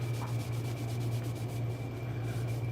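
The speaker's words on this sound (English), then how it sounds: "Doing some sharpening. Just cleaning that stone up" A knife sharpening stone being cleaned, giving a steady, close scrubbing rub that runs continuously at even loudness with a low hum underneath.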